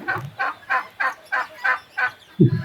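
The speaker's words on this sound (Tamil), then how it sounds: "இது வான்கோழி." A turkey on an organic farm gobbling in a steady series of about seven quick, evenly spaced calls, close and clear, ending with a lower grunt.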